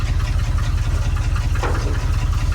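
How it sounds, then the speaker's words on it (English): Tow truck engine idling roughly with exhaust leaks, a loud, lumpy low thumping pulse close by, steady throughout with a brief rattly burst partway through. "it's loud, it's got exhaust leaks and all this other stuff, but Yeah, wow. it's a little bit lumpy."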